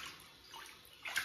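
Warm bath water sloshes and splashes faintly as an orangutan is washed in a tub, with a few soft brief swishes and a small splash near the end.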